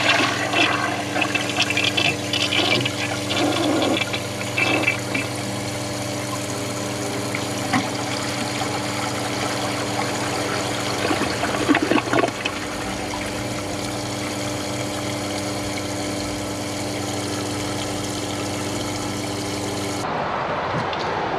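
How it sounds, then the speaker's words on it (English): A 1991 Kohler Wellworth toilet flushes on a dry bowl, a loud, close rush of water that roars steadily for about twenty seconds before cutting off abruptly. "Here's a flush on a dry bowl."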